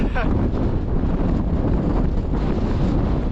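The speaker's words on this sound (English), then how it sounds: "I bet if I just go this way a little bit, all of a sudden the wind's going to appear" Strong gusting wind buffets the microphone near a rocky mountain summit in the Lake District, a loud, constant roar with no break.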